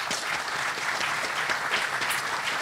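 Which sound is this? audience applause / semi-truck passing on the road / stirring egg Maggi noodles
audience applause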